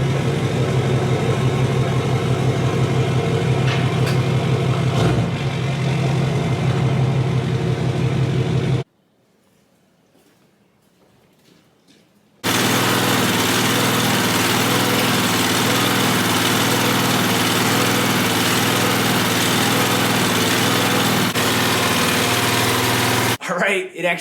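Crushed Duramax pickup running close by as it pulls a trailer forward into a garage, a loud steady engine drone that cuts out for several seconds and then resumes.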